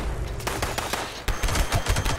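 Rapid automatic gunfire from a pepper shaker and a Gatling plasma in the video game Fallout 76, a dense, loud, continuous burst of shots with a brief break partway through and no talking.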